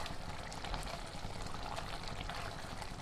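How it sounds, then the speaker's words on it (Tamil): Cooked mutton and its liquid are poured from a pressure cooker into a pan while making mutton chukka, a continuous soft, splashing pour that stays steady and fairly quiet for several seconds. "நம்ம குக்கரை ஓப்பன் பண்ணி நம்ம வேக வச்சு வச்சுருந்தோம் இல்லையா கறி, அதை இதில் ஊற்றிடுங்க."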